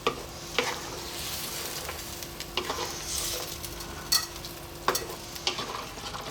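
Lamb, mushroom and coconut curry bubbles above a simmer in a pot, a steady bubbling hiss broken by intermittent spoon knocks and scrapes.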